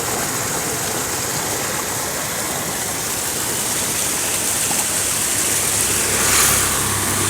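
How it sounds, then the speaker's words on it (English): Water flowing steadily from a reservoir into a paddy field in Goa, a constant broadband rush that stays even and close from start to finish, with no voices. "See, from here water is flowing."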